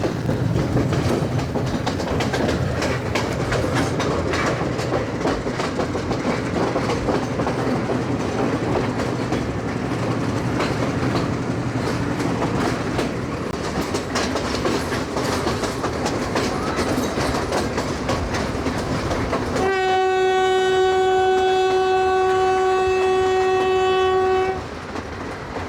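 A train runs along a railway line in Sri Lanka with a steady loud rumble and rail clatter throughout. A long sustained horn blast sounds near the end, and no voices are heard.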